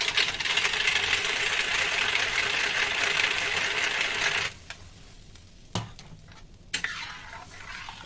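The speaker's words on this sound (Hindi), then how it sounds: "इसमें मथानी चला देंगे।" A hand churner (mathani) whisks gram flour and water into kadhi batter in a pot, a steady loud rushing swish that stops halfway, followed by a few knocks and clinks.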